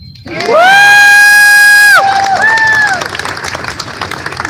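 Outdoor Pride celebration crowd erupting in loud cheering and high whoops, swelling suddenly, then easing into scattered clapping and crowd noise.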